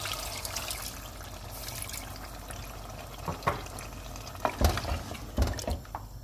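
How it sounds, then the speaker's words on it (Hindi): Water pours into a hot pot of beef handi for gravy with a soft trickle, then splashes and sizzling bursts as it hits the pan, moderately quiet. "अब ग्रेवी के लिए मैं थोड़ा सा पानी डाल रही हूँ।"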